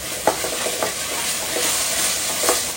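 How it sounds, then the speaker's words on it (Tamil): Onions sautéing in a pan with a little ginger-garlic paste, a steady sizzle under several scraping stirs of a spatula, close and loud, with no speech. "ஸோ 2 வெங்காயம் வந்து சேர்த்துக்கிறேன். இது நல்லா வந்து வதக்கிடலாம்."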